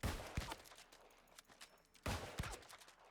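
Two musket shots ring out about two seconds apart in the game New World, each a sharp crack with a short tail, quiet overall between them.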